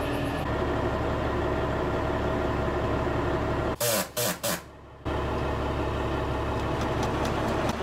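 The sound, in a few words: truck engine running while tipping the truck bed up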